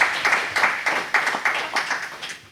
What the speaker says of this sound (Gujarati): તાળીઓના ગડગડાટથી આ કવિનું સ્વાગત કરીશું